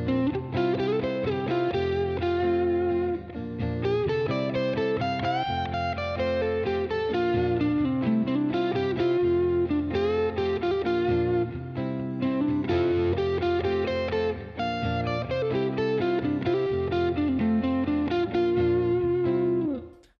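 Distorted electric guitar runs up and down a scale pattern in a steady stream of notes through effects, loud and continuous with no talking.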